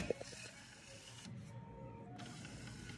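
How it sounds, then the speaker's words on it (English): A Denon DN-C635 professional CD/MP3 player's disc tray opens and closes, giving a brief click followed by a soft, steady mechanical motor whir that runs close and moderately quiet, with no talking. "It is Denon C635. Open, close."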